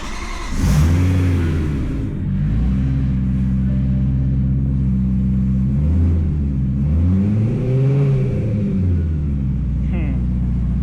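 A BMW M3 E92 engine cranks and catches, then settles into a loud rumbling idle with several revs rising and falling, heard up close, with the muffler off.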